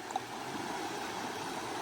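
A high stream on the Appalachian Trail, swollen above its usual rock-hop level, rushes steadily close by in a continuous watery wash, with no talking.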